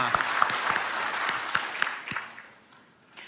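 Dense, lively audience applause at the DICE Awards 2025 game-industry ceremony: a steady wash of many hands clapping that fades toward the end, with faint voices beneath.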